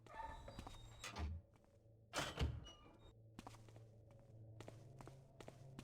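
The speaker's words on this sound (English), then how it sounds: "I can hear footsteps." Footsteps in the stealth video game Thief 2: a series of soft thuds and steps with a couple of louder thumping impacts, spread unevenly across a quiet, reverberant game ambience.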